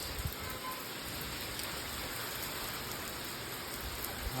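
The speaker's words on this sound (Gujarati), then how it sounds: "ફૂલ વરસાદ ચાલુ થઈ ગયો છે" Steady, dense rain hisses across the whole stretch, a broad constant wash of noise with no voices or other sounds rising above it.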